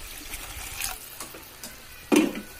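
Water is poured into a pot of coconut milk curry for freshwater fish in a home kitchen. It comes as a short, soft splash and trickle near the end, following quieter liquid sounds, with no voices.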